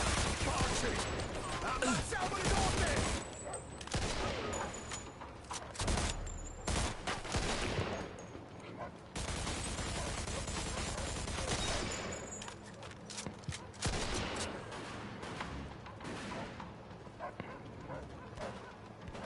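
Sustained machine gun fire in the crime shooter game Mafia II, loud dense bursts and rattling volleys that run almost without pause, with voices talking over the gunfire at times.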